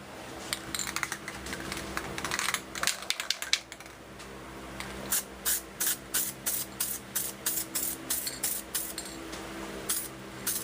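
Automotive base coat sprayed from a paint spray gun for a blend repair, short hissing bursts, first irregular and then a steady run of about a dozen evenly spaced passes, close and alone.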